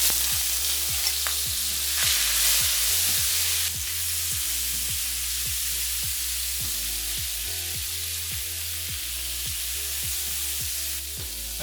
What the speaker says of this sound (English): We're going to add some olive oil. Spread the oil around. And we're going to put in the shrimp.